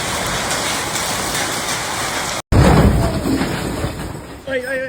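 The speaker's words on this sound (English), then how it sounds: "It's very bad raining now." Heavy rain pours steadily during a severe thunderstorm in Sydney, New South Wales, a dense loud roar with a brief cut midway and faint voices or tonal sounds near the end.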